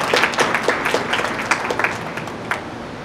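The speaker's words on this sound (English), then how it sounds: "Please have a big round of applause for the judges." Audience applause for the judges at an inter-school science exhibition, a steady, fairly loud wash of clapping from a crowd in a hall, sustained throughout.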